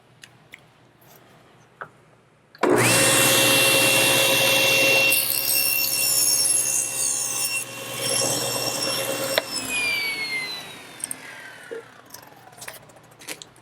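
A table saw fitted with a 10-inch thin kerf blade cuts through a veneered panel: the motor spins up into a loud steady whine, the pitch sags slightly under load, then winds down. No talking.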